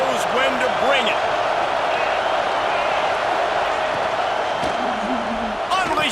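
Stadium crowd noise from an Ohio State versus Notre Dame game in College Football 26 holds as a loud, steady roar throughout, with cheering swells and whistles rising over the sustained din.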